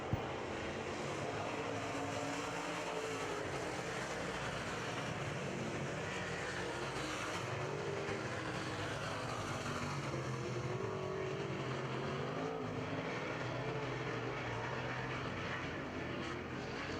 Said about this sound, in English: they drag race down the back straightaway into turn number 3 and 4